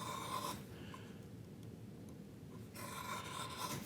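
A knife blade is drawn along a knife wall in a wooden workpiece to deepen it while a housing dado is being cut. Close, soft rasping strokes sound at the start and end, with a quieter stretch between them.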